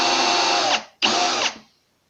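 A power screwdriver countersinks a hole in wood or MDF, two loud whirring bursts with a short pause between them, each winding down as the motor stops.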